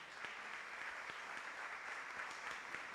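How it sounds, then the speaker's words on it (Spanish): An audience applauds at a civic presentation held in a city council chamber in Veracruz, a steady, fairly faint wash of many hands clapping with no break. "Un aplauso para ella"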